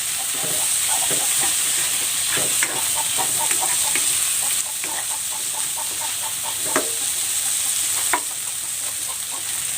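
Deboned smoked fish (tinapa) sizzles steadily in a hot frying pan, a continuous crackling hiss broken by scattered pops and a few louder clinks of a utensil.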